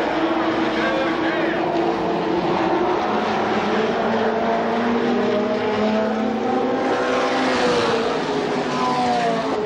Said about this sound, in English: Your top four cars, nose to tail on the track.